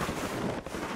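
Sniper gunfire in the Call of Duty video game, a steady dense burst of shot-like noise lasting about a second, with a brief dip partway through.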